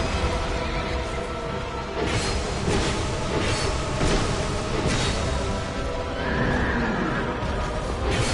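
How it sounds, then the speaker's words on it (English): A horse neighs and whinnies in the video game Dark Souls II, set against a dense, constant wash of game ambience and background music with no talking. "I'm just gonna let the horse go around"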